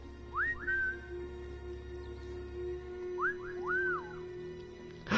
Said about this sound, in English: And there's a reason why I'm whistling.